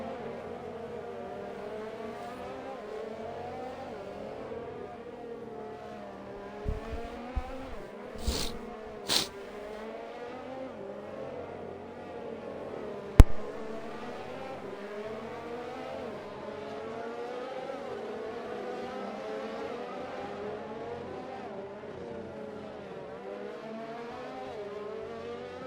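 Racing cars idle on the starting grid at the Russia round, a steady, wavering engine drone that fills the whole stretch, with a few short revs and sharp blips partway through and no voices.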